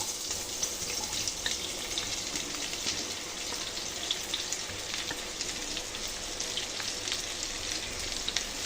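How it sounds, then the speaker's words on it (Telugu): Chopped onions frying in hot oil in a kadai give a continuous, even sizzle with a faint bubbling crackle, close and unbroken throughout. "ఈ ఆనియన్స్ని ఫ్రై చేసుకోవాలండి"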